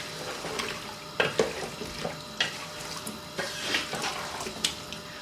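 Water poured into a pan of spiced potato and cauliflower, with intermittent splashes and stirring bursts over a soft sizzle, close by and moderately loud, no talking.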